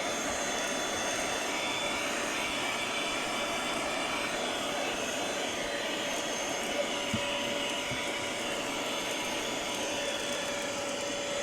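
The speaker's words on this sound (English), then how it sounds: "So let's see how well it works as a vacuum." A handheld vacuum sold as a Tesla Model Y accessory runs steadily with a constant high whine and airy rush, close and unbroken throughout, with no talking.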